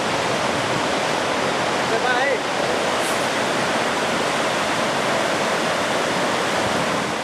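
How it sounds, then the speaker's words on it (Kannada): Flooding Krishna river rushing in Yadagiri, a dense, loud, steady roar of turbulent water that holds without pause, with brief faint sounds above it. "ಸದ್ಯ ಕೃಷ್ಣಾ ನದಿಯ ಪ್ರವಾಹ ಕಡಿಮೆಯಾಗುವಂತಹ ಲಕ್ಷಣ ಅಂತೂ ಕಾಣ್ತಿಲ್ಲ."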